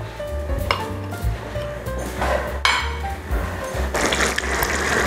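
A cream and parmesan cheese sauce bubbles and sizzles in a pan, with steady close simmering and occasional scrapes and clinks of a utensil against the cookware.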